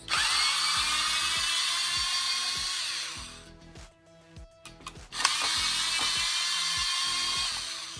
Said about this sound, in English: After I remove those 6 screws, then your front bumper piece is off.